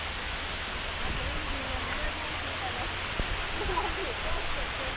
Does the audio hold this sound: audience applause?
no